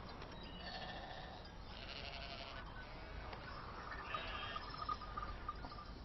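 Sheep bleat at a moderate distance, a few wavering calls rising over a steady murmur of outdoor ambience.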